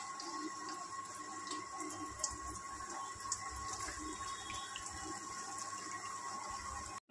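Kachori dropped into hot oil in a kadai gives a faint, steady sizzling hiss that runs continuously without pause.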